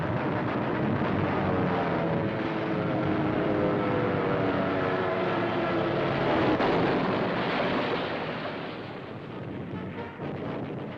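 Massed anti-aircraft guns and attacking warplanes in a 1944 air raid on Japanese-held Truk Island, a dense, continuous roar of engines and bursting shellfire that stays loud throughout, easing slightly near the end.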